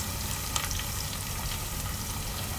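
Turmeric goes into onions frying in a pan for a Gujarati vaal bateta shaak of beans and potatoes, and a steady, dense sizzle hisses throughout with no talking.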